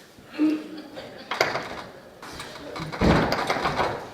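A locked door is tried in a stage setting: a few rattling, knocking impacts and a scraping slide, fairly close, with a voice talking around them.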